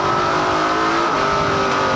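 A Ford Fusion NASCAR Pinty's Series stock car engine roars loudly and continuously at high revs at the Alberta Has New Energy 300 race, with a dense, steady mechanical drone.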